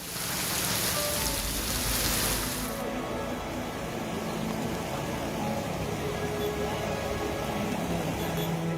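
Heavy rain pours down steadily during widespread monsoon flooding in Maharashtra, a dense continuous hiss with a brighter, louder burst in the first few seconds before settling into a constant wash.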